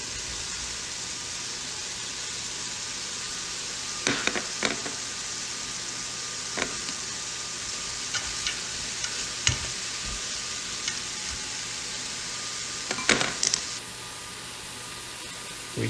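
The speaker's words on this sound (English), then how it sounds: "We keep stirring the mixture till everything becomes softened." Chopped onions and celery fry in a pan with a steady loud sizzle and hiss, while a utensil stirs and scrapes now and then, close up with no talking.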